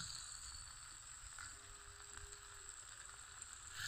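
Pasta with tomato sauce frying in a pan while being stirred, giving a steady low sizzle throughout, fairly faint and with no voices.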